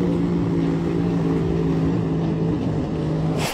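A loud, steady engine drone with a low humming tone, like a helicopter and motorboat running together nearby, continuous throughout.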